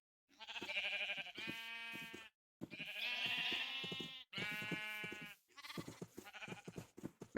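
Sheep in the Minecraft video game give a series of bleats: about four loud, nasal, wavering calls close together, with short gaps between them and no talking.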